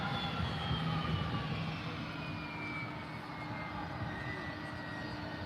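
An airliner takes off from runway 18L at DFW airport, its jet engines making a broad, steady roar with a faint high whine, heard from a distance and without talk.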